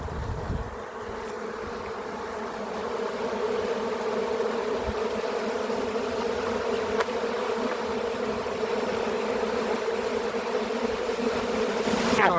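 A massive honey bee swarm buzzes close and steady for the whole stretch, a dense continuous drone that swells slightly louder toward the end.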